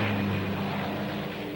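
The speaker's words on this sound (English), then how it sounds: "The planes from the main Japanese force took off to strike Midway Island." Steady broad roar of propeller-driven Japanese carrier aircraft taking off for the Midway strike during the June 4th battle, a continuous loud engine drone with no break and no voices.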